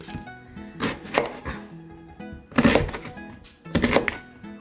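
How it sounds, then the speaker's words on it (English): A small onion cut with a knife, heard as three distinct chopping bursts spread across the moment, each a sharp cluster of blade hits on the board with quieter handling in between. "I'm going to cut an onion."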